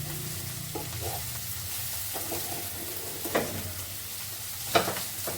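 Bitter gourd and radish frying in a pan, a close, steady sizzle with occasional spatula scrapes and stirring knocks, a couple of louder clatters near the end, no talking.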